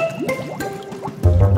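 A toilet cleaning bomb fizzes and bubbles in toilet water, giving close, loud wet gurgles and drips that swell into a fuller rushing fizz toward the end.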